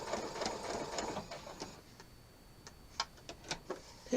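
A sewing machine stitches along the edge of a fabric table topper, running in a steady fast whir, then pausing into quieter ticking clicks as the presser foot is lifted and the fabric is turned.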